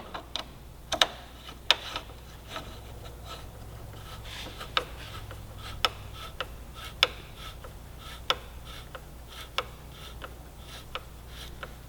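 A bolt on a Kawasaki Ninja 400 frame slider is tightened down through a nylon puck, giving a run of small irregular clicks and ticks against a low steady background hum, faint and close.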